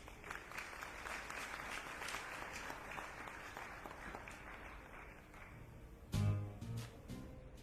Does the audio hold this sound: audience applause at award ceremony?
yes